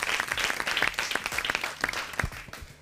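A studio audience bursts into applause for an eight-year-old boy on a children's show, with dense, steady clapping throughout and a few sharper claps standing out.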